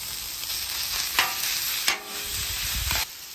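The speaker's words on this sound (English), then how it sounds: "we're just going to add our sausage, our ground beef. We're going to cook it all the way through" Sausage and ground beef sizzle steadily on a hot flat top grill, a constant close frying hiss with a few sharp scrapes of a spatula against the metal surface, no voices.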